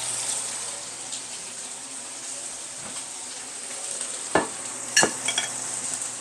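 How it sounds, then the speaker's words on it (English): Steak searing in a hot pan, a steady bright sizzle held throughout at moderate level, with a few sharp clinks and scrapes of utensils near the end. "while this steak is searing on the first side"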